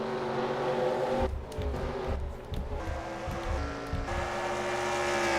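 Race cars in a racing video game, a Marvel Studios Cup Series event at Oswego, drone loudly around the track, engine tones rising and falling as cars close up and pull away, with no talking.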